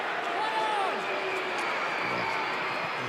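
Crowd murmur and scattered jeers at the Sydney Cricket Ground during a 2009 North Melbourne vs Sydney football match, a steady broad roar with commentary talking over it.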